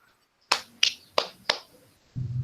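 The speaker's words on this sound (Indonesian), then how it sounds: "Kita beri tepuk tangan untuk adik Tere ini." Four sharp, evenly spaced claps ring out in a quiet classroom with a short pause between each, followed by a low hum.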